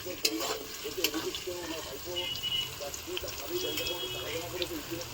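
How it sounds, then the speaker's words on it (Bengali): Pumpkin pieces fry quietly in oil over a wood- or clay-stove fire, giving a soft, steady sizzle under a person talking nearby. "কুমড়োটা ভাজা হোক"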